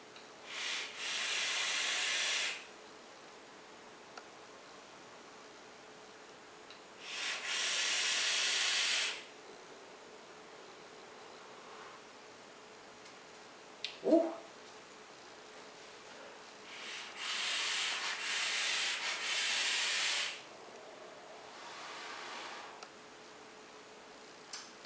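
Long exhaled breaths of thick vape clouds from a Copper Buddha RDA, heard as three or four drawn-out breathy hisses of a few seconds each, close and steady, with a short mouth sound between them and no speech.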